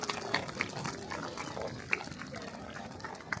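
A few short, dog-like barks from a barking owl named Millie at a wildlife sanctuary bird show in Australia, moderately loud amid a noisy outdoor crowd background.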